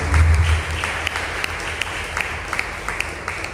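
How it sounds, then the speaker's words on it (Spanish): Applause from a congregation during a Sunday church service, a steady wash of hand claps with a few louder individual claps standing out, moderately loud and continuous with no talk over it. "un fuerte aplauso al Rey de Reyes y Señor de Señores"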